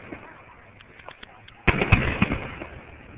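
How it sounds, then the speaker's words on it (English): Outdoor Fourth of July fireworks at the University of Delaware, with faint distant pops followed by a louder crackling burst of explosions that rumbles on, while people speak in the background. "they can't see the fireworks from over there"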